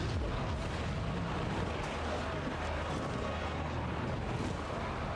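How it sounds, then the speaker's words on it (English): Mortars and artillery from gunnery mobs fire in Total War: Warhammer 3, a dense, distant battle din of continuous rumbling booms and crackle at moderate level. "That is a lot of mortars. A lot of mortars and gunnery mobs."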